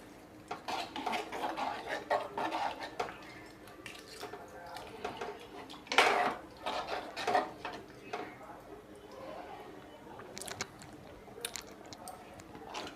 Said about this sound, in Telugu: కుక్కర్ మూత పెట్టుకుందాం